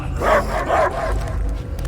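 Cosmo the dog barks twice in quick succession in the Guardians of the Galaxy video game, loud and close, with a low background hum underneath.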